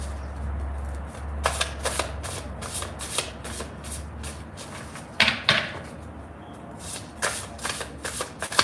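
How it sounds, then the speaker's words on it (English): Tarot cards are shuffled and laid out on a surface, giving a run of crisp riffling slaps and flicks in quick bursts, close and fairly loud, with a low hum beneath and no talk. "Just because of the way I've been laying the cards out here."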